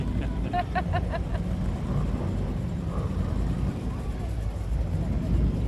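Restored cars rumble past in a holiday parade in Granada Hills, a low, steady engine drone mixed with crowd noise and people talking nearby.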